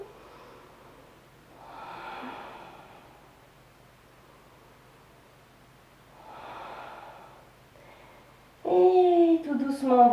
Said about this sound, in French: On inspire, on expire.